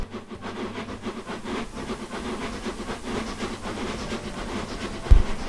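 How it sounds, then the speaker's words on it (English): A Great Northern Class A1 steam locomotive in Train Simulator chuffs in a steady, fast rhythm under a continuous hiss of steam, with a brief louder thump near the end and no talking. "the chuffing sounds sound very nice"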